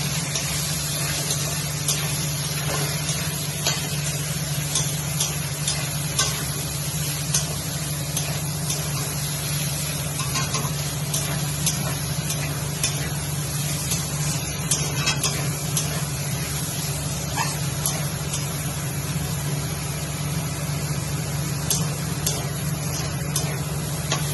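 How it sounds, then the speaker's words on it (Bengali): Marinated chicken dropped into hot oil for a chicken chowmein gives a steady, continuous frying hiss with spitting crackle that holds evenly throughout, with no talk over it. "তেলটা আমার গরম হয়ে গেছে। আমি এবার এই ম্যারিনেট করা চিকেনটা এখানে ছেড়ে দিই।"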